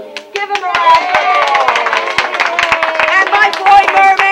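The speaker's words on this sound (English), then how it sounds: "Give him a round of" Beachside audience clapping for a child performer, a steady patter of handclaps mixed with a sung or chanted voice over it, moderately loud and close.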